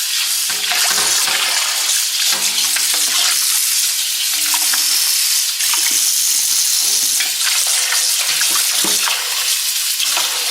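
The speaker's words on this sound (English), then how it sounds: "put them in cold water and let them rinse again" Turkey wings rinsing under cold tap water, a steady broadband splash and rush of running water from a kitchen faucet, loud and close throughout with occasional clinks and sloshing as the pieces are moved.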